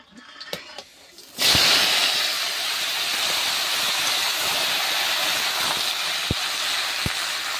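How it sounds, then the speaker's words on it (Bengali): Washed, chopped bottle gourd hits hot tempered oil for a fish curry: after a second of quiet handling, a loud sizzling hiss bursts up and holds steady to the end, with a few small taps. "আগে থেকে কেটে রাখা লাউ ভালো করে ধুয়ে নিয়েছি তো ওটা দিয়ে দিচ্ছি"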